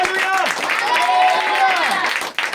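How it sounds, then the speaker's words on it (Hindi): Congregation at a church preaching meeting claps loudly, a dense sustained patter heard together with a voice over it. "जोर से ताली बजाकर प्रभु को महिमा दो"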